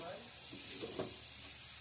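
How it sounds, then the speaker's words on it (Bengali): Fried potatoes go into a sizzling pea curry, with a continuous close crackling sizzle, a brief stirring clatter near the middle and no talk. "এবার আমি ভাজা আলুগুলো দিয়ে দিচ্ছি"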